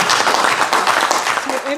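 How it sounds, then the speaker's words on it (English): Audience clapping at a university launch event for a national stuttering awareness day, a loud, dense burst of applause with a voice faintly emerging near the end. "if that doesn't deserve a round of applause"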